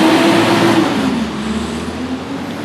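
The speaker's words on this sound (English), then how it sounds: "sorry folks, the garbage truck is going by." A heavy garbage truck rumbles loudly past nearby, its low engine drone steady and then slowly fading as it moves away.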